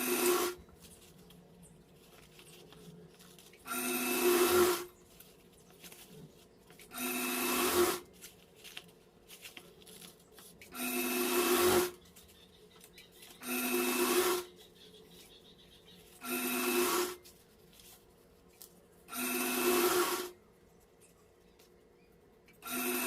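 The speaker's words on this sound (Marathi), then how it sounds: "ह्याच्यावर कडेला एक शिलाई मारून घेऊ." A sewing machine stitches a seam on a princess cut blouse in repeated bursts of rapid whirring, about seven runs separated by short quiet pauses, close and moderately loud.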